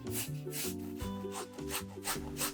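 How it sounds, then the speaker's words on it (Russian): Three large potatoes are rubbed against a kitchen grater in quick, rhythmic rasping strokes, close by and fairly quiet, with a faint tonal background beneath. "первым делом натрем на терке 3 крупных картофелины"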